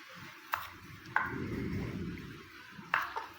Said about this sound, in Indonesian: sampai semua wortelnya ini sudah diiris seperti ini